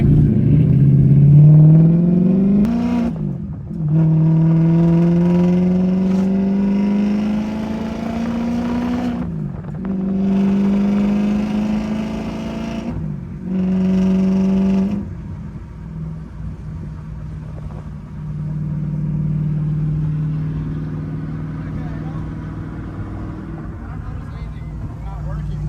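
An Audi's engine revving hard during a burnout, repeated rising high-rpm pulls separated by brief drops, loud and close, easing to a lower idle-like drone near the end.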